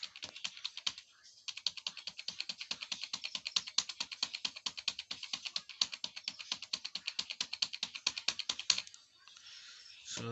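A single computer keyboard key, F10, is tapped rapidly and repeatedly in a long, even rhythm of sharp close clicks, with a brief pause near the start and a stop near the end.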